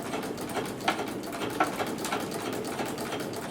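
A sewing machine fitted with a ruffler foot stitches fabric with a fast, steady mechanical whir and a busy rhythmic patter, close and continuous throughout with no voices.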